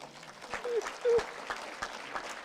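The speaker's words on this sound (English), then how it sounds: "So I want you to give him a very big round of applause." Audience clapping at a defence technology talk, a thin patter of hands with a few sharper claps standing out, fairly faint and steady for a couple of seconds while a voice briefly sounds beneath it.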